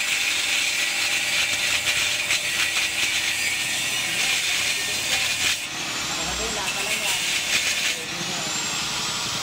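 A grinder whines steadily and loudly throughout, working on a bell being made into a medallion, with faint voices in the background.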